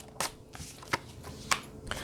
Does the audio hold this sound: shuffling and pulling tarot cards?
yes